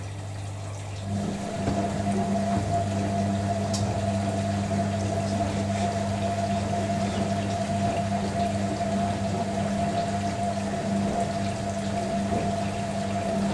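Water sloshes and churns steadily inside a running vintage 1980s Hoover A3060 Electronic 1100 washing machine during a bedding rinse, with a constant motor hum beneath the gentle agitation.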